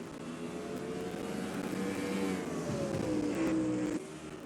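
A race car engine in a racing video game, a continuous buzzing drone with rising and falling pitch as the car accelerates, ending abruptly, no talking.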